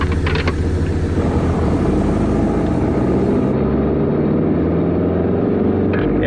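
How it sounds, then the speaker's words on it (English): A Nissan Navara with a swapped M57 diesel engine drives through wet, slushy snow, its engine droning loud and steady with a continuous low rumble and road noise throughout. "Matt's going to take the lead now, and in his Navara. It's an M57 swap Navara."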